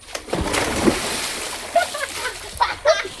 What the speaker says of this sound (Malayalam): ഒരു വട്ടം കൂടി ചാടാം നമുക്ക്.